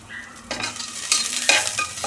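Chopped onions hit hot oil for tempering a chicken curry and sizzle in the pan, with a few scraping stirs and bursts of frying that grow louder and quieter, close and unvoiced.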